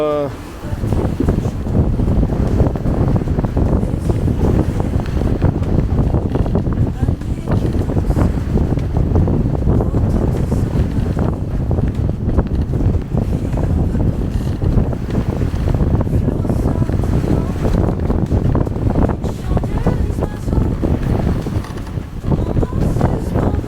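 Strong wind roars steadily across the microphone while sailing between Martinique and St Lucia, a loud, continuous rush with buffeting and water noise from the moving boat, filling the whole span without a break.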